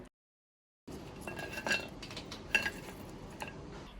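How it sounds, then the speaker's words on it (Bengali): Metal utensils clink and scrape against a pan over a steady sizzling hiss as fried goja, flour-dough sweets, are lifted out of hot oil. "এবার আমি এগুলোকে তেল থেকে তুলে নেব"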